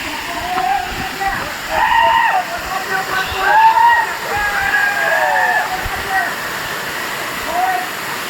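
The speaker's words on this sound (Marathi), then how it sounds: "या चावलीच्या धबधब्यावर आपण पोचलेलो आहोत तर जाऊन बघूया या ठिकाणी हा धबधबा कशा पद्धतीचा आहे तो" Javali waterfall pouring in a continuous loud rush of falling water, with faint voices of people nearby over the roar.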